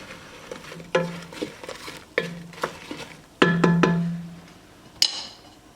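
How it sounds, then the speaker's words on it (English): Apple chunks with cinnamon and water being stirred in a pot: close, irregular bursts of spoon scraping and clinking against the pot, with short pauses between strokes and no talking. "I'll mix them around."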